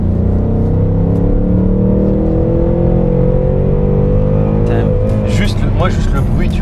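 A 2020 Ford Mustang Bullitt's naturally aspirated 460 hp V8 rumbles steadily up close with a deep, continuous idle-like drone, while voices talk over it.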